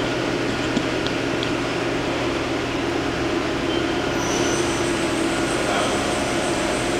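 Mori Seiki SL-15MC CNC turning center with live milling, full C axis, tailstock, parts catcher and chip conveyor, running with a steady broadband machine hum and whir, continuous and even throughout, with no talk.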